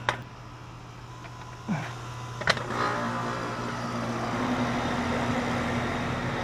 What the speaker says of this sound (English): Now let's crank it up and let's see which way this motor goes